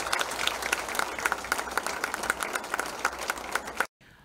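Applause at a union year-end celebration honouring a member named Rishma, a steady burst of clapping from the audience lasting nearly four seconds before cutting off abruptly.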